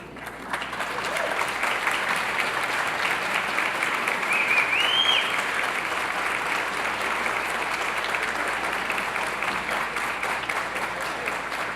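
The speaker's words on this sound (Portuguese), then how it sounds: "Eu pediria que ficassem em pé e a eles fosse dado uma salva de palmas" A seminar audience in Presidente Prudente, Brazil, on ending child labour gives a standing ovation: a full, even roar of many hands clapping that holds steady the whole time, with a faint voice briefly rising above it.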